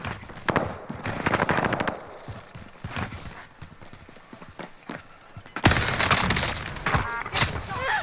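Rapid bursts of video game gunfire crackle loudly, with a louder stretch of shooting near the end, mixed with other game noise.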